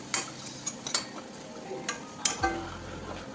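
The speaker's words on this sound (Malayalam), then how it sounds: "2 ടേബിൾ സ്പൂൺ മാത്രം വെള്ളം ഒഴിച്ച് ചെറുതായിട്ടൊന്ന് മിക്സ് ചെയ്ത്" A spice mix for pickles being stirred with a little water in a pan, giving a quiet simmer with scattered spoon clinks and scrapes against the metal.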